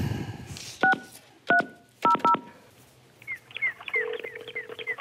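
Four quick keypad tones from a telephone being dialed, two close together at the end, each a sharp electronic beep, followed by bright chirping birdsong from the handset.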